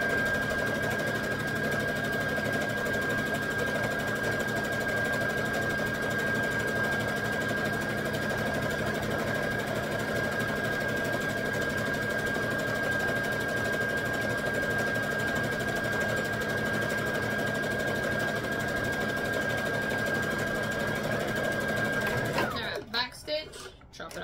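A sewing machine stitching a red wrap skirt runs in one long, steady, even whir with a constant tonal hum, stopping abruptly near the end; a person talks over part of it.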